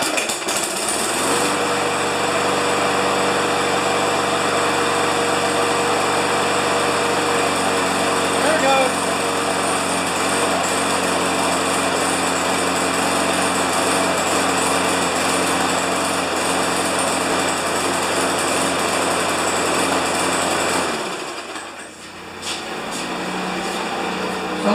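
A Murray lawn mower with a Briggs & Stratton Classic engine that blows black smoke runs loud and steady at close range with a buzzing, rattling drone for about twenty seconds, then sputters and dips as it falters.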